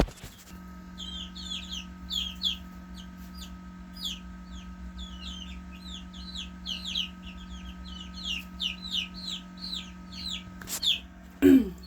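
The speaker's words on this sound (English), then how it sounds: "Baby chicks do not like how dark it is in here." Baby chicks inside a Nurture Right 360 incubator peep continuously in rapid high chirps over a steady fan hum, with a brief clunk near the end.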